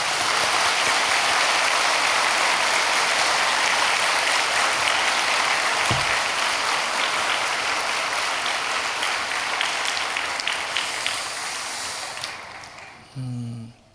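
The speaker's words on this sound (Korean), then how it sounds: "격려하면서 한 번 더 박수하겠습니다" Church congregation applauding together during a Sunday praise service, steady dense clapping that fills the room for about twelve seconds before fading out, with a brief low thump partway through and no talking over it.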